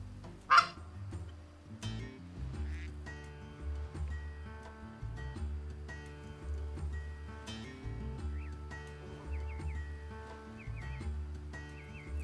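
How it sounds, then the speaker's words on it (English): In the hunting game Way of the Hunter, a wild duck gives a few faint, scattered quacks and honks over a low, steady ambient hum and soft ticking, with no talk. "that's wild duck"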